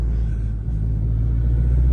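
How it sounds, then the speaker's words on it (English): Exhaust of a turbocharged Acura RSX downshifting, heard from inside the car as a loud, steady low rumble that swells slightly toward the end, with no talking. "And he's downshifting. You guys can hear the exhaust."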